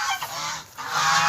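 Geese honk loudly in a brief burst of nasal calls, close by with no talking.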